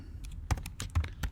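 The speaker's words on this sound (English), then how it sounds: "I'm not used to this Apple keyboard." Fingers type on an Apple computer keyboard in a short burst of sharp, uneven key clicks, close and distinct, with no voices.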